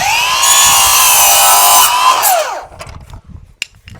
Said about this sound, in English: the important part is getting the miter right here and just cutting it off